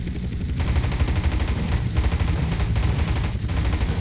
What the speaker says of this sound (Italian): Ah, si sparano pure i razzi